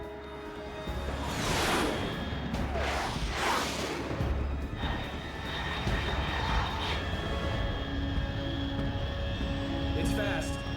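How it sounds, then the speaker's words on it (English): A jet aircraft roars past in the stealth game Metal Gear Solid 3, two loud rushing swells early on over a steady engine drone with tonal hums, while a voice speaks over radio chatter. "Unidentified aircraft detected."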